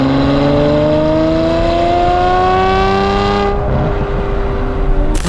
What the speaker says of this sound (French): Et puis surtout, le bruit, hein.